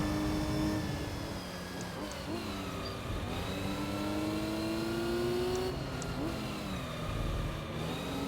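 Car engine in the racing video game Gran Turismo 3, straining and revving through repeated rising and falling gear pitches, with loud steady engine drone throughout and no talk.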